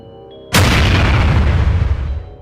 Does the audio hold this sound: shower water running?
no